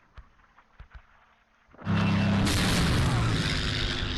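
Artillery and mortar shell explosions in the WWII strategy game Close Combat, a few faint distant thuds followed by one loud sustained blast that roars on to the end.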